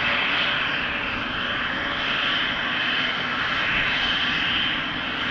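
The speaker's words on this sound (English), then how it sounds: "So the Embraer taxiing right towards us, going to take off in front of us." Embraer jet taxiing at Amsterdam Schiphol Airport gives a steady, loud engine roar with a bright whine, holding constant throughout without voices.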